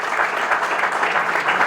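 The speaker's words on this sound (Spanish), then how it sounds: "Yo voy a pedir un aplauso para Facundo" Audience applause for a guest at an international lecture session, a steady, dense wash of clapping from many hands that holds evenly for under two seconds.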